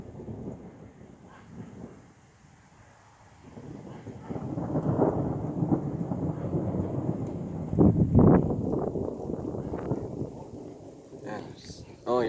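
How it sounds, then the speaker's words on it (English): A thunderstorm with a lightning display sends deep, rolling thunder that swells through the middle, cracks loudest near the end and fades back, with a voice speaking faintly alongside. "Oh, here comes the rain. Here comes the rain."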